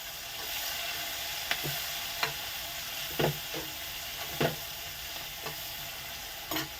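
Onion and green chillies frying in a pan, a soft continuous sizzle broken by several sharp spoon-on-pan stirring knocks spaced across the clip.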